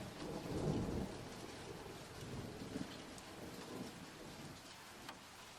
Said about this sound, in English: I really love the sound of the rain.